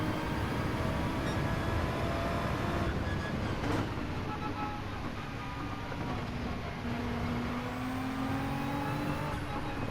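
Gr.3 race cars in Gran Turismo 7 at Autodromo Lago Maggiore drone steadily at high revs. Several engine tones rise and fall together in a continuous, fairly loud pack with no talk.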